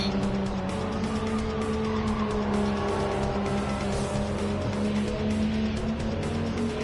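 In a racing video game, a 1988 Toyota Supra 3.0GT Turbo A drones loudly and steadily at high revs while its tires squeal continuously through the run.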